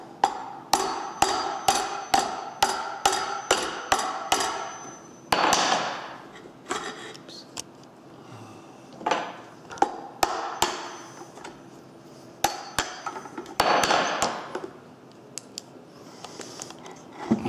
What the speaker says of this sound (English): So I'm going to knock this plug out.